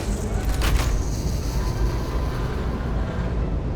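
A train in the video game Satisfactory rolls along, a steady loud rumbling roar with a rattling, clanking burst near the start, continuous and without talk.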